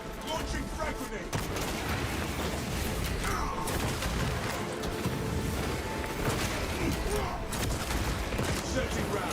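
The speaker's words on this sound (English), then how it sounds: "Launching frag grenade." Frag grenade launched amid battle in Space Marine 2, dense continuous gunfire and blasts under a constant loud roar, with thumping impacts scattered throughout.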